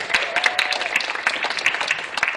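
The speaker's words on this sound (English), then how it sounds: "Let's give all of them a round of applause one more time" Quiz show studio audience applauding the competing teams, a steady burst of many hands clapping close by, with no voice over it.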